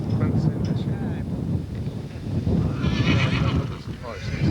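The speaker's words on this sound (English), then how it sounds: "Look at some horses." Horses neigh and whinny at a ranch in Quincy, Michigan, amid steady wind noise on the microphone, with the calls standing out faintly from the outdoor rumble.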